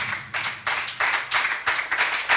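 A church congregation at a French-language evangelical service claps together in a brisk, steady rhythm, close and loud, about eight even beats with no voices over it.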